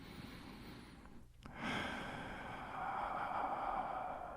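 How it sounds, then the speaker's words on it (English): A slow, deep breath is drawn and released in a quiet room during a breathing demonstration: a soft, airy inhale, a brief pause, then a long steady exhale, close and unhurried. "Breathing."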